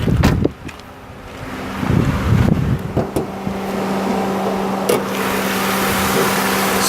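A 2006 Honda Odyssey engine idles with a steady low hum, partly buffeted by wind against the microphone, with a few bumps near the start.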